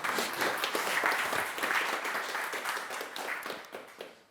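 Applause from a conference audience at a tech talk, dense clapping that holds steady for a few seconds and then tapers off near the end.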